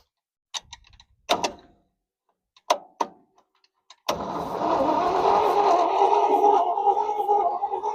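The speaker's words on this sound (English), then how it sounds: "Well, it doesn't sound good, but it's cranking" A 1969 Chevy Custom C10, long buried in a field with corroded battery connections, gives several sharp clicks and clunks and then a sustained, loud, rough cranking drone running steadily to the end.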